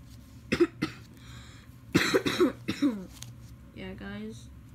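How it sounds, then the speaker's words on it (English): Several sharp coughs and throat clearing burst out close by, mixed with brief voiced sounds, against a low steady background hum. "I've had this cough and it's killing me"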